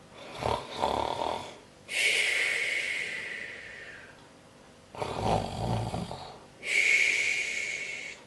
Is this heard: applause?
no